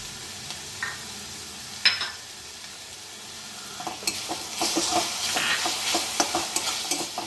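Onion and tomato sizzle and fry in a pan nearby, with occasional stirring scrapes and clatter growing busier toward the end; no talking.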